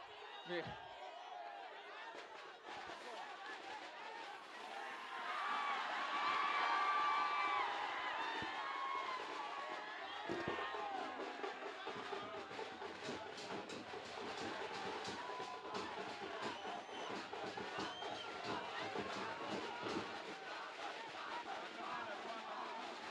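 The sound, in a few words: crowd shouting and cheering at a speech event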